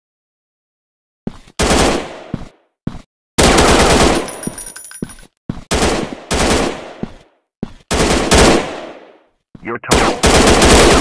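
Loud bursts of automatic gunfire from an Android robot shooting game, several rapid volleys of one to two seconds separated by short silences, with a brief voice line in between.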